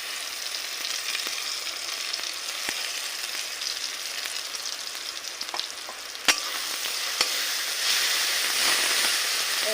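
Ginger paste frying in a pan with onion, tomato and garlic, a steady loud sizzle with a few sharp crackles and pops, heard alone without talk.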